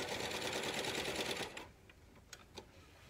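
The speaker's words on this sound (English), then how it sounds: "she's going to finish off our pillowcase by serging down the side and completing what we call the L." A serger sewing machine runs steadily down the side seam of a pillowcase, a loud, close, even whirring stitch for about a second and a half, then stops and leaves a few faint clicks and handling sounds.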